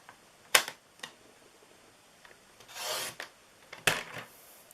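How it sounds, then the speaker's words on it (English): A paper trimmer slices through card stock for a gift box, heard as a few sharp scraping and clicking strokes with a longer rasping slide of the blade in the middle, close and clear in a quiet room. "I'm going to bring up my trimmer here, and we're going to trim this down"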